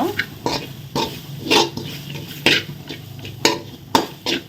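Grated coconut being dry-roasted in a pan for laddu, with a spatula scraping and stirring in repeated sharp strokes against the metal, roughly every half second, close and moderately loud.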